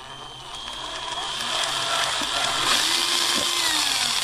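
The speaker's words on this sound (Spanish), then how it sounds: "He cambiado de broca por una que corta adecuadamente." Power drill boring a hole through a plastic enclosure box for an ESR meter tester, a steady continuous whirring grind that rises slightly as the bit bites, close and alone.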